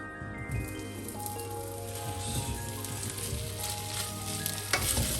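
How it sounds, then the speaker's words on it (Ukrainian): Sliced potatoes frying in a hot pan sizzle and crackle steadily up close, with scattered sharp pops and a faint clink of utensils. "наша сковорідочка, чи правильніше сказати, пательня вже нагрілася, картопелька нарізана, ми можемо її сюди перекладувати"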